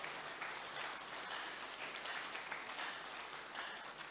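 Steady applause from a pastors' conference audience, dense and continuous without a break, with no voices rising above it.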